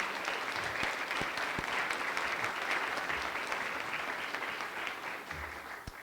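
Audience applause at a spring general assembly in a hall, a steady, dense clapping from a large crowd that holds for the full stretch and eases slightly near the end.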